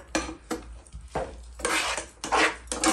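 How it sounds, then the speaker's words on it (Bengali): Spice masala for mustard hilsa, with salt, turmeric, chilli, coriander and garam masala, stirred in a pan: repeated scraping and clanking strokes of a utensil against metal in an uneven rhythm, close and fairly loud, with no talk. "তো আমি এটা এখন ভালো করে কষাই"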